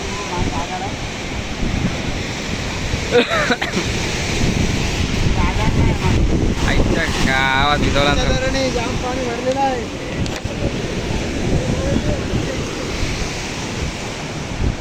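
Sea waves surge and roar steadily onto Bhardakhol Koliwada beach, a continuous close wash of surf with wind buffeting the microphone while people talk over it throughout.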